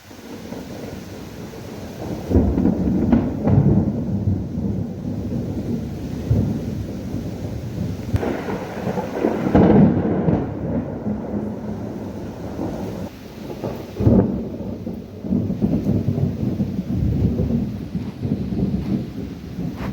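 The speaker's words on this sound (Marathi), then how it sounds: "बघा ढगांचा आवाज किती येतो गडगडाचा भरपूर येत आहे" Heavy thunder rolls and rumbles through steady rain at night during a lightning storm, with several loud, deep booms swelling and fading over a constant wash of rainfall.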